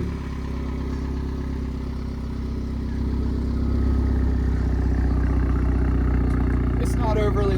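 Audi four-cylinder car with a newly installed exhaust pipe, started and settling into a steady idle, a low continuous rumble that grows slightly louder partway through, nearby, with a faint clink near the end.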